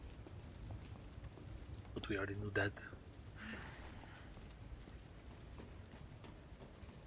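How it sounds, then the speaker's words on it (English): Steady rain falling on a dark night in Resident Evil 2, a constant soft hiss running through the whole scene beneath brief bursts of speech. "Oh no, it's a rainy night."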